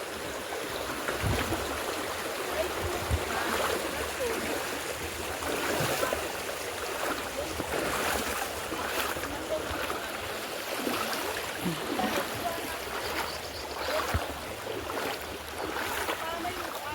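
A small creek (sapa) flows steadily, a continuous broad rushing and splashing of water heard nearby, with faint speech-like sounds in the background.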